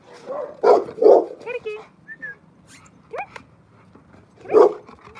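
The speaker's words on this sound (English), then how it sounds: "my puppies are going to start barking here" Puppies bark in several sharp, close bursts with yips and whimpers in between, indoors during a plant-repotting session, while a person calls to a pet.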